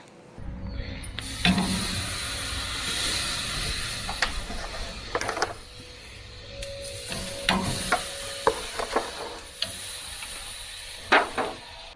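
Maple bourbon pork chops sizzle on a Hasty Bake charcoal grill with a steady close hiss, broken by intermittent clicks and clatter as the meat is handled and flipped.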